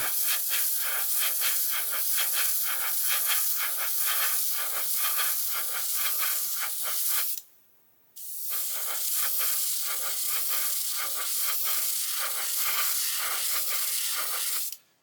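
Airbrush spraying acrylic clear coat onto a 1/24 Airfix Bf109 G-5/G-6 model kit, a steady close hiss with a faint rattle that breaks off briefly for about a second and then resumes.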